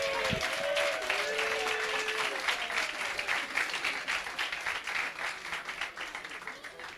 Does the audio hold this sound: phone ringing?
no